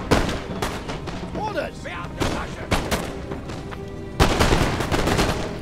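Musket volleys crackle and pop in dense, overlapping bursts across a Napoleonic-era battle in the strategy game Napoleon: Total War, with a heavier burst near the end, while someone talks over the gunfire.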